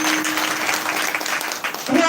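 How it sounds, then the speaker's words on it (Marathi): Steady clapping from a crowd at a devotional kirtan gathering in a temple hall, a busy wash of hand claps with a voice carrying through it near the end. "टाळ्या वाजवायला"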